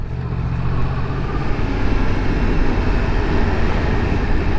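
A 2022 Yamaha MT-10 motorcycle ridden through town, its engine a steady, loud low rumble with broadband road and wind noise that rises slightly and holds level throughout, no voice over it.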